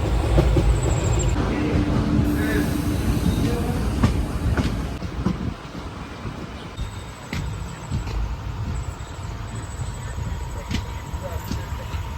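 A train rumbles steadily along the rails with rhythmic clacking and occasional metallic squeals, loud and close, while people talk faintly in the background.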